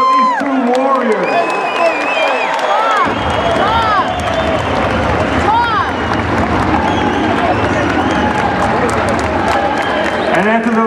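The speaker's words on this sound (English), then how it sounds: "how about a round of applause for these two warriors?" After ten rounds at a boxing match, an arena crowd breaks into loud applause and cheering that swells and holds, with shouts and whistles rising through it and an announcer's voice talking over the roar at the start.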